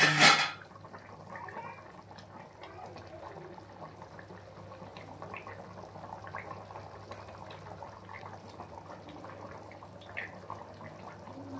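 A pot of fish curry (pulusu) simmering on the stove gives soft, steady bubbling and faint popping. The sound is quiet and close, after a brief louder knock at the very start.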